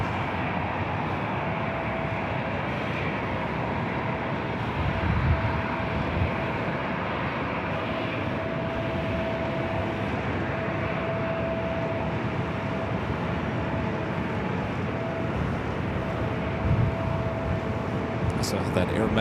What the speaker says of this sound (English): KLM flight 602, the Dreamliner heading back to Amsterdam, now starting its taxi, heading up here to 24 left.